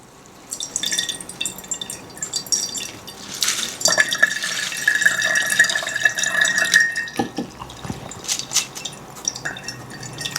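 Water poured from a propagation container to rinse a plant pot, with splashing, dripping and trickling for several seconds, close and moderately loud, a steadier stream in the middle and scattered drips toward the end.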